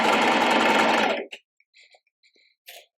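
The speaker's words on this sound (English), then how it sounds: "So I've got my machine set to a standard straight stitch." A sewing machine runs a straight stitch along a dart in fabric for wide-leg trousers, a loud, fast, steady whir for just over a second, then a few faint clicks and taps.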